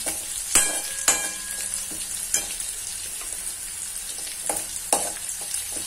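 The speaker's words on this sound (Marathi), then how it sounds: "आणि आता हे छान आपण त्याला सातळून घेऊया" Potatoes sautéing in a pan with ginger and garlic: a soft, steady sizzle broken by several sharp scraping and stirring clatters, close and quiet.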